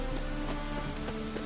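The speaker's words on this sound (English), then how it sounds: "Rain again." Steady rainfall in The Witcher 3: Wild Hunt patters on a surface, a continuous soft hiss with a faint low tonal hum underneath.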